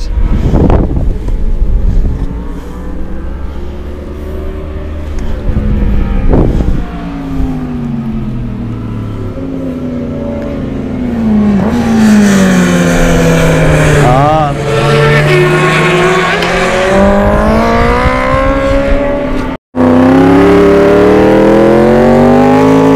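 Honda CBR1000RR-R 2020 motorcycle ridden at full throttle, a loud high-revving engine wail that climbs and falls through gear changes amid heavy wind rush, with voices talking over it.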